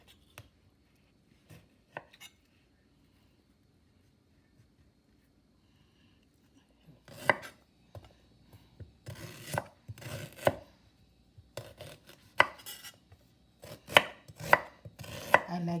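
Knife chopping fresh ginger on a cutting board: after several quiet seconds with a few light taps, a run of brisk, close, loud chops arrives in uneven bursts of rapid strokes.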